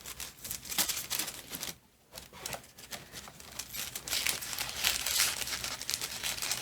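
Scissors cutting through a double layer of paper print, close crisp snipping and crinkling in irregular bursts with a brief pause partway, no voice over it.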